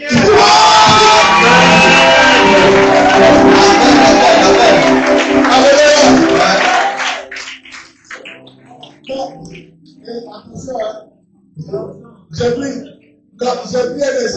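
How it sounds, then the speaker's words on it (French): A church congregation at a Sunday service cheers and shouts loudly together in a dense burst for several seconds, then falls away to a speaker talking alone between scattered pauses. "On acclame le Seigneur."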